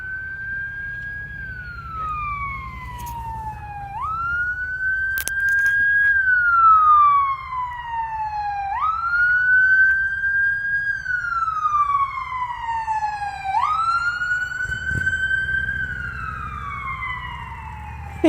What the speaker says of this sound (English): It's called The Ambulance is Going By.